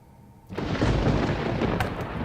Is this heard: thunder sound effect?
yes